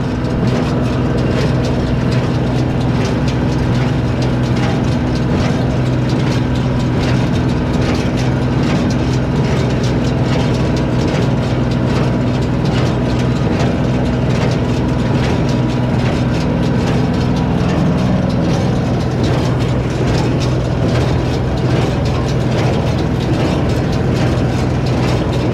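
A Massey Ferguson No. 12 square baler runs continuously in a hayfield, a loud, dense, steady mechanical roar with a low droning hum and constant rattling, unbroken from start to finish.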